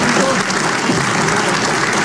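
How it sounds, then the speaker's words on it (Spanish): Brief, dense burst of audience clapping at a South Korean gathering, steady and loud with a faint crowd murmur under it. "pues están aplaudiendo"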